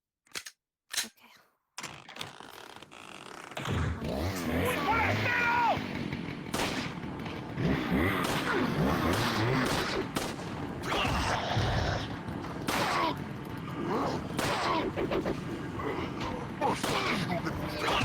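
Gunfire in Resident Evil 4 in VR, with scattered sharp shots early on, then dense, busy game combat noise. A person talks and reacts over it throughout.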